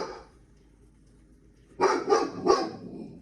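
A dog barks three times in quick succession, fairly close, after a quiet stretch of faint background hum.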